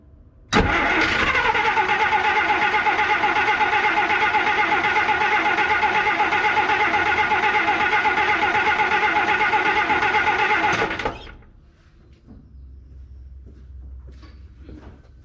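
A 1953 Plymouth Cranbrook engine cranks steadily for about ten seconds after sitting abandoned for over 25 years, a loud continuous starter grind pulling fuel up through the pump before it cuts off to quiet.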